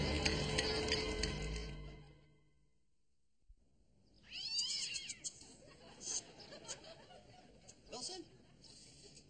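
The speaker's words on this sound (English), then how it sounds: "No, just Mrs. Foley's cat" A cat caught in a humane trap meows in a few short, rising cries after a brief silence, fairly close but quiet, with a voice speaking before the pause.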